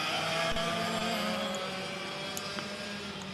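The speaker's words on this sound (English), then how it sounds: "the VLR is a 100cc air-cooled engine package" Several 100cc air-cooled racing kart engines with centrifugal clutches buzz at a distance during a Junior VLR race at Rok Sonoma, a steady high-pitched drone with passing whines.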